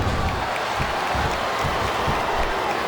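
Arena crowd in WWE SmackDown vs Raw 2008, a continuous wash of applause and cheering from a large capacity audience, steady and fairly loud throughout with no clear pauses.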